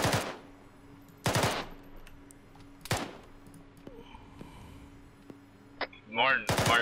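Gunfire in the military shooter game Arma 3 during a milsim assault along the DMZ: a few sharp, loud bursts spaced a second or more apart over a low battlefield rumble, with brief radio-style voice chatter near the end.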